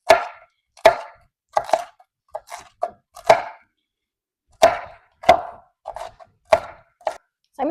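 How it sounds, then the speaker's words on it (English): Bell peppers and green onions chopped with a knife on a cutting board: a string of crisp, close knife taps at an uneven rhythm, some in quick pairs or triplets, separated by short pauses. "So I'm going to chop these up as small as I can"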